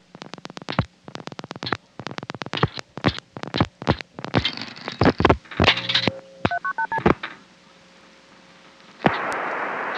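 A telephone number is dialed on a 1974 Wellfleet, Massachusetts phone line, a quick string of clear touch-tone beeps followed by a short sequence of rising tones and a steady line tone, ending in a burst of static hiss.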